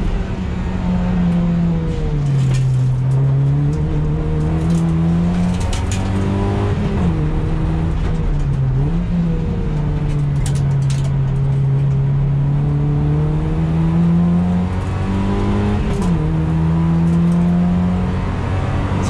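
Toyota Yaris with new upgrades driving the double-lap layout at Curborough sprint course, engine note droning steadily and rising and falling through gear changes and corners, loud and close throughout.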